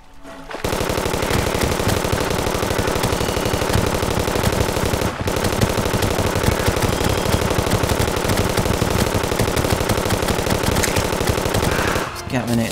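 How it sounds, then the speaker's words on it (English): Rapid, relentless automatic gunfire from the Gatlinator weapon in the game Terraria, a dense stream of shots running loud and continuous for nearly the whole stretch with only a brief break. "This Gatlinator is so inaccurate, but that's the point of the weapon."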